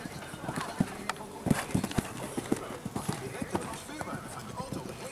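Horse hooves clip-clop at a stable in Koningsbosch, a steady run of close, sharp hoof strikes with people talking quietly underneath.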